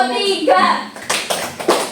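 A classroom of students claps in unison during a physics lesson on static electricity, three sharp group claps spaced evenly after a voice, loud and near.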